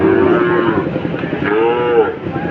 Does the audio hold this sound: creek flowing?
no